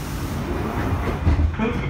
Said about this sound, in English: This is a Central Line train to Loughton.